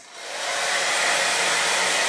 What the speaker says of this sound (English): I'm going to use the hair dryer